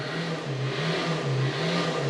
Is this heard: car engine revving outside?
yes